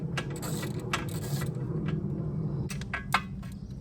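Ratchet clicks from removing nuts on the core support of a 2009 Audi A4 2.0T: rapid metallic clicking bursts at close range, with steady mechanical noise underneath and a sharp clack near the end.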